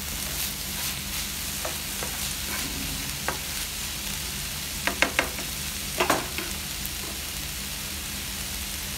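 Red amaranth leaves, lal bhaji, frying in a pan give a steady, even sizzle throughout, with a few light clicks and taps of a spoon, close and moderately loud, with no talking.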